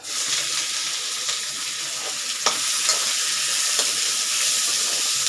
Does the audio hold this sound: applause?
no